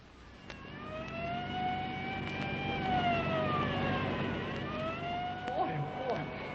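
A police car siren wails in a loud, sustained rise and fall that sweeps up and down several times, with a steady engine-like rumble underneath, as in an old-time radio drama.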